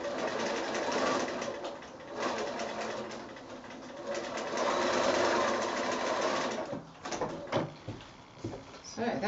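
Sewing machine stitching across a small drawstring bag made from quilting squares, a steady loud motorized whir running nearly throughout, dipping briefly and breaking into short bursts near the end.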